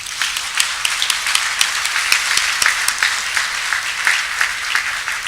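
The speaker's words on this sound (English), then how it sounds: "So let's give him one more round of applause." An audience at a downtown Kenosha, Wisconsin civic event gives a round of applause, loud and close, with brisk individual claps standing out in a continuous wash of clapping.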